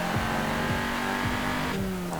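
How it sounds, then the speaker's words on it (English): A high-revving inline-four car engine in Forza Horizon 4, climbing through gears with quick shifts, loud and steady throughout. "So it's a really rather high revving inline-4 engine."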